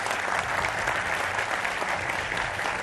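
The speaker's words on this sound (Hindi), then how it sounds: "लेकिन तालियों के साथ स्वागत सबसे पहले करते हैं शिवम त्यागी," Studio audience on a Hindi political TV debate show applauds steadily to welcome a guest, a dense, even wash of clapping with no talk over it.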